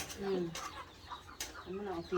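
Chickens cluck in short bursts near a rural Thai kitchen while bamboo-shoot curry is cooked, with people talking around them.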